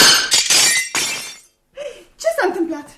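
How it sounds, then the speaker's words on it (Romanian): A Japanese vase falls off a cupboard and shatters, a loud burst of breaking glass and ceramic with scattered clinks over about a second and a half, followed by voices speaking in a radio play. "Vasul japonez a căzut de pe dulap."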